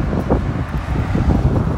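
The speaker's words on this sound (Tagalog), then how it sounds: "Malakas ang hangin." Strong wind buffeting the microphone in gusty, rumbling bursts during an outdoor road bike ride, loud and continuous throughout.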